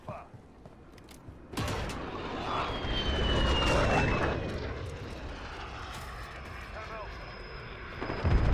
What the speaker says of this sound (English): the VTOL is coming in